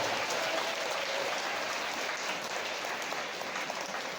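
Sustained applause from an audience at a school solo singing competition, steady clapping filling the hall for several seconds without a break.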